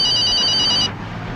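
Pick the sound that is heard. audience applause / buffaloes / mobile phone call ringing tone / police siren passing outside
mobile phone call ringing tone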